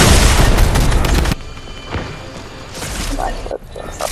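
A bomb blasts against a shield in Fortnite, a loud broadband boom filling the first second before cutting off abruptly, followed by quieter game noise with a few smaller thuds.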